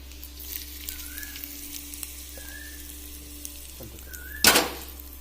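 Hot mustard-seed tempering is poured onto ground coconut paste for mango pachadi. A sudden loud hiss bursts out near the end after a faint background hum with soft clinks.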